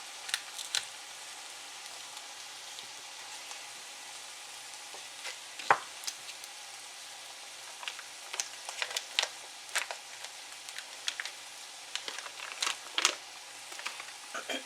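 Cheese cubes stirred into a sizzling pan give a soft, steady hiss broken by scattered sharp crackles and utensil clicks that grow busier toward the end, with no voices.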